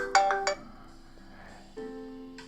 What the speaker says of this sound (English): We got another phone call